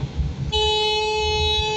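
A car horn blares loud and close in one sustained honk in traffic, from inside a Tata Nano electric conversion, after a brief moment of low road rumble.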